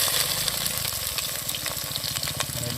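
Onions drop into hot oil with curry leaves for a drumstick-leaf dish, setting off a loud, crackling sizzle with rapid bubbling pops that carries on steadily, close and alone.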